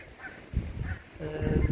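Geese and ducks honk and call by a garden lake, a couple of short squawks close by against faint background noise.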